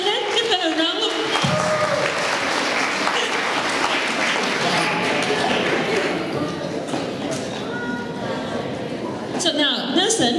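An audience applauds performers at a migrant and refugee cultural anniversary event, a sustained wash of clapping that swells and fades, with talk heard at the start and end.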